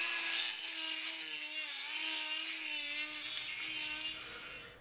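A Dremel rotary tool grinds out the inside of a small metal piece, a steady, loud, high-pitched whirring whine with a slightly wavering pitch that runs unbroken for about five seconds before easing off at the end.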